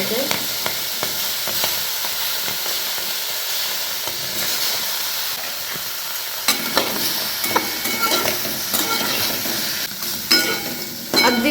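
Potatoes cooking in a kadhai over a gas flame, a continuous sizzle and hiss with intermittent stirring scrapes and clatter that grow busier partway through.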